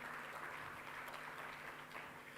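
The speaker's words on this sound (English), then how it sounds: "Give them a big round of applause." Audience applauding dignitaries, including a Union Minister of State for Law and Justice, at an Indo-UK commercial arbitration conference; a steady, even wash of clapping fills the whole stretch at moderate distance.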